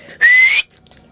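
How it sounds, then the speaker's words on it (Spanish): A single loud Silbo Gomero whistle made with a finger in the mouth, a clear sustained tone that slowly rises in pitch for under half a second, then stops abruptly. "el silbo gomero es que pones el dedo y silba"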